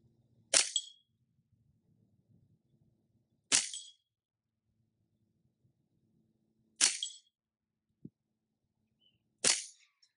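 Four sharp, snappy PCP air rifle shots ring out at spaced intervals, each a crisp pop with a short tail, against a quiet outdoor background with faint rumble and wind.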